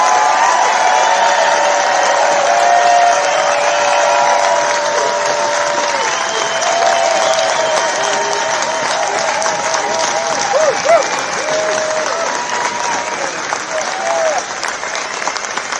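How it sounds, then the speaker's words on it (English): A loud outdoor crowd at a trucker convoy rally applauds continuously, with steady clapping, cheers and whoops, and air horns sounding through it. "Let's give them a round of applause."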